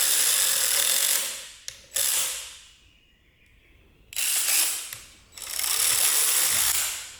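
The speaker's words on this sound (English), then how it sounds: "It said impact, but I'm using the battery ratchet." A cordless battery ratchet tightens bolts on a boat, giving loud, close bursts of rapid mechanical clicking and whirring, three runs separated by short pauses.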